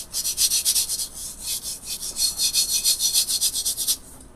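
A fingertip rubs dry glitter over a tumbler's surface in quick back-and-forth strokes, a close, steady scratchy hiss pulsing through roughly twenty passes before stopping.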